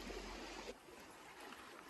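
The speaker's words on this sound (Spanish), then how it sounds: "Una hermosura de río." The river at Santa María Xochixtlapilco, swollen after heavy rain, gives a very faint, continuous rushing and trickling wash of flowing water, heard distant and low with no voices over it.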